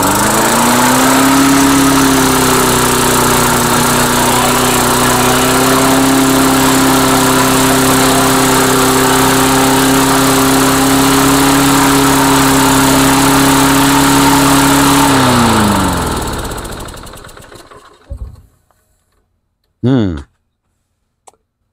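A small engine with a sticking governor races loud and high for about fifteen seconds, then winds down and dies, followed by a short sputtering burst as it briefly catches again.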